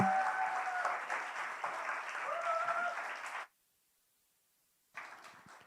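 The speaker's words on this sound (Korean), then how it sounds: "마지막인 만큼 더 큰 박수로 맞아주세요" Applause at a university mission camp festival forum in Seoul, steady clapping from a crowd with some whoops over it, cut off abruptly, then resuming briefly after a silent gap.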